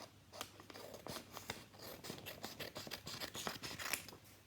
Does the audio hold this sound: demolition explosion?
no